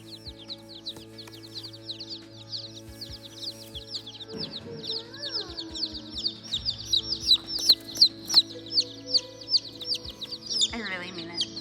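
Baby chicks in a shipping box from a poultry hatchery cheep in a dense, high chorus of rapid peeps that grows louder and busier toward the end, with a few soft knocks and a brief lower call mixed in.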